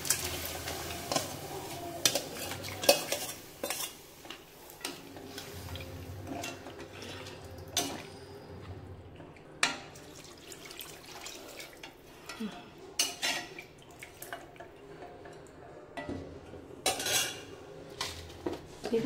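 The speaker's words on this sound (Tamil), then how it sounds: "அதை நல்லா ஒரு வதக்கிட்டு நம்ம இந்த வேக வச்ச கறியை சேர்த்துட வேண்டியதான்" Cooked meat being sautéed with coriander powder in a pan for a new year lunch, with repeated clinks and scrapes of a spoon against the pan, close and moderately loud, irregular throughout.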